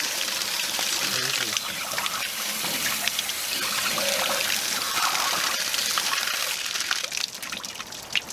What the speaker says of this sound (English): I flush this out, I don't know, 4 or 5 times until I get a clear flow coming out of it